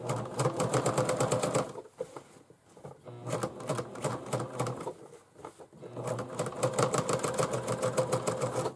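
A sewing machine stitches a ribbon spiral onto a bag in three rapid bursts of close, rhythmic needle chatter, separated by short quiet pauses filled with soft handling noise.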